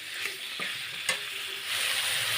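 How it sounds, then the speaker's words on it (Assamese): Chicken pieces fry in a pan with little oil while being stirred: a constant sizzle broken by a few sharp utensil clinks against the pan, growing louder toward the end. "এতিয়া চিকেনখিনি ভাজি আছোঁ"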